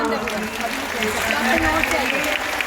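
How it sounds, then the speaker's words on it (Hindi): Crowd applause at a Bharatiya Janata Party political rally in Delhi, a steady loud wash of clapping that lasts throughout, with voices murmuring underneath. "एक बार जोरदार तालियां"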